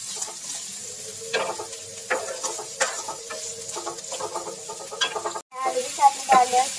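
Onion and cumin lightly frying in a pot for pork samosa filling, a close steady sizzle with repeated scraping stirs and utensil knocks, a brief dropout near the end.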